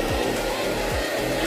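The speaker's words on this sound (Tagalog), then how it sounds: "So, bu-blower ko na siya habang sinusuklay." A hair dryer blows steadily and loudly at close range while dyed hair is combed through, a constant whooshing roar that never lets up.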